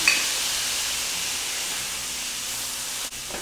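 Dry Chardonnay white wine poured into a hot pan with garlic, giving a steady, fairly loud sizzling hiss that holds evenly for a few seconds with a brief dip near the end.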